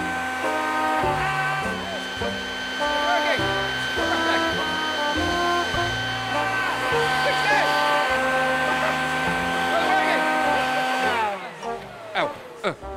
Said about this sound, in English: I have a bigger hairdryer, which is a leaf blower